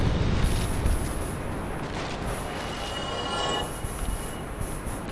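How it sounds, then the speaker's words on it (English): Dark Souls Remastered, near the Pinwheel boss: a dense, rumbling roar of noise fills the scene, broad and steady with a faint high whine above it and no speech. "Very scary sound of pinwheels."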